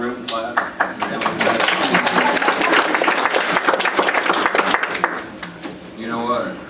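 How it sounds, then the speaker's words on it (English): Whole meeting room of county commissioners breaks into steady applause, many hands clapping densely for several seconds before tapering off, with voices talking over the tail. "Everyone in the room, clap."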